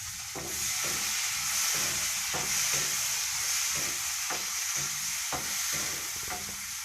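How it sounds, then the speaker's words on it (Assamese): Onions frying with a few fenugreek seeds in hot oil, a continuous loud sizzle broken by regular scraping stirs of a spatula about every half second, with no talking. "এতিয়া মই পিঁয়াজখিনি দি ভাজি ল'ম, লগতে গোন্ধৰ বাবে মেথি গুটি দুটামান মিহলাই দিম।"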